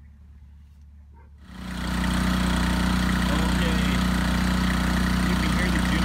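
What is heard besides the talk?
RV generator running, idling engine hum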